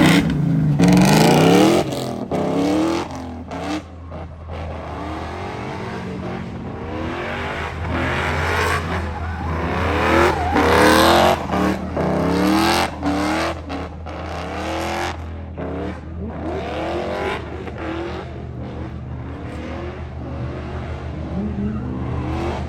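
BMW E46 fitted with a Mustang GT 5.0 V8 engine, tested at a track, revving hard in repeated loud bursts with deep rumbling idle between, close up and alone.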